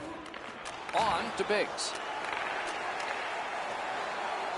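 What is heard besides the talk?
crowd cheering in a hockey match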